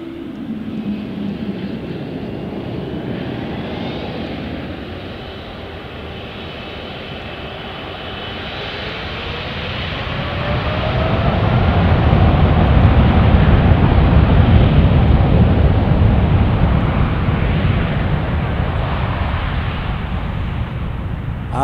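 Airplane taking off from Paine Field, a loud steady engine roar that swells and builds toward the middle before easing slightly, with wind buffeting throughout.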